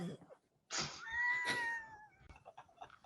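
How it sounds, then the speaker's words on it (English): A single cat gives one drawn-out meow lasting about a second, fairly faint, with a few soft rustles and small sounds after it. "I see you, pretty cat."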